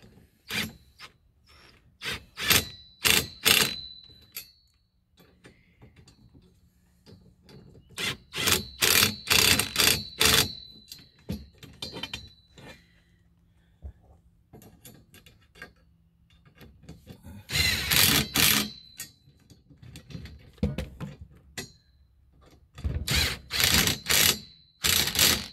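Ratchet wrench tightening bolts while assembling a Costway glider rocking chair, heard as bursts of rapid clicking strokes repeated in several bouts with short pauses, close and fairly loud with no talk.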